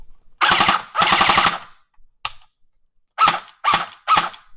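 An EMERBU AKMS underfold toy gel ball blaster with metal gears fires two loud, close bursts of rapid full-auto shots, followed after a pause by a single snap and then three sharp separate shots.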